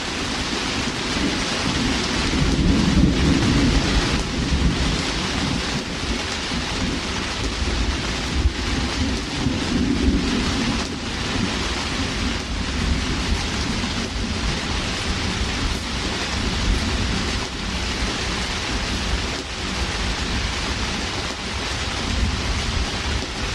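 A steady thunderstorm with heavy rain pours continuously on a sailing boat moored in the Walton Backwaters, with low rumbles of thunder swelling beneath the dense hiss of rain throughout.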